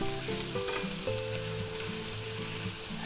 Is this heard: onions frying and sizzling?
yes